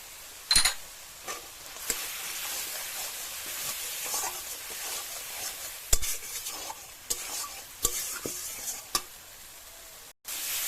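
Masala with Kashmiri chili powder frying for a fish curry, heard as a continuous hissing sizzle broken by sharp scrapes and taps of a spatula stirring in a pan, close and fairly loud.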